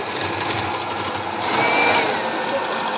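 Electric mixer whirring steadily at fourth speed while beating sponge cake batter, a continuous close motor whine with a slight swell in loudness midway.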